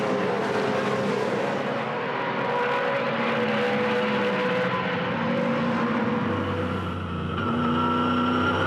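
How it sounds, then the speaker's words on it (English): A big pack of Supercars at the 2005 Phillip Island finale roars past in a dense, continuous engine drone, many V8s revving together at close range with no talk over them. "That's a big pack of cars all in that next group."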